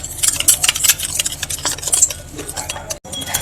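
Coffee skin scrub paste stirred with water in a bowl, a continuous wet scraping and clinking of a spoon against the bowl in quick irregular strokes, close and fairly loud with no voices.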